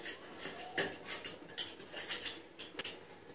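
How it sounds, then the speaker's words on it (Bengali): A knife cutting boiled eggs into pieces on a plate, faint scattered clicks and scrapes of metal against dish at an uneven rhythm, close and quiet. "ডিম দুটো সুন্দরভাবে কেটে নিয়েছি"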